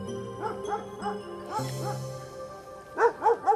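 Several dogs bark and yip in short rhythmic bursts, with a loud close cluster of barks near the end over a steady background hum.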